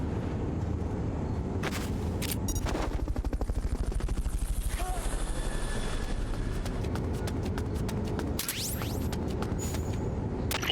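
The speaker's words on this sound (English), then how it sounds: "Fulton recovery helicopter is complete." Steady rapid thumping of helicopter rotor blades runs through the whole stretch, loud and close, with brief sharp game sound effects layered on top, from a Fulton recovery helicopter in Metal Gear Solid: Peace Walker HD.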